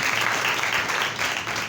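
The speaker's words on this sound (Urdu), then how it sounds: "زوردار تالیاں خدا ان کے لیے" A church congregation breaks into loud, sustained applause: dense, steady clapping from a crowd, heard up close and holding an even level throughout.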